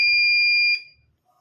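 A sensor training kit's electronic buzzer sounds one steady, piercing beep that cuts off abruptly after under a second, leaving near silence.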